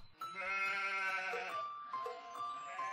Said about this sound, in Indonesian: gembala yang menggembalakan kambingnya di padang rumput